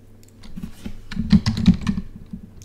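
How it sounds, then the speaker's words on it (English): Rapid clicking of keys on a computer keyboard, irregular bursts of typing with a few louder keystrokes, close by and with no talking. "I'm typing Fred Liddy."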